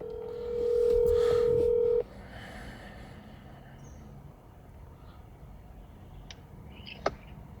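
A steady electronic dial tone holds for over a second, then cuts off, leaving low background hiss with a faint click near the end.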